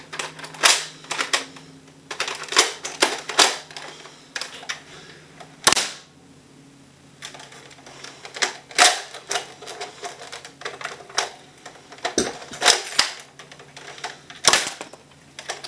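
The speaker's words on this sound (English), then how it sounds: "I just wanted to shoot those last 2 darts." An Airzone Hawk toy dart blaster gives a series of sharp, close clicks and snaps, irregular and separated by short pauses, mixed with quieter handling noises and no speech.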